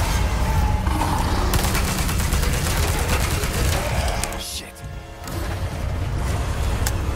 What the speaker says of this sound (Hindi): जितनी गंस थी सबकी गोलियां चला दी इसके ऊपर